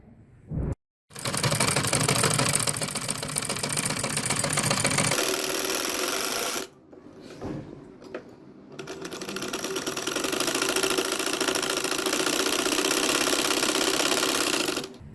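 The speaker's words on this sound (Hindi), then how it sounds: "अब मैं दूसरी तरफ सिलाई लगाऊंगी।" A sewing machine runs in long continuous bursts while stitching lace onto a garment sleeve, with a short pause near the start and a longer break in the middle before it resumes steadily to the end.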